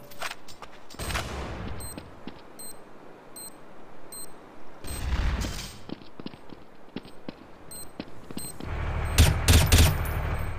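Gunfire in Counter-Strike: Source on Dust or Train maps, with scattered shots and short bursts popping through the match noise and a louder burst of fire near the end.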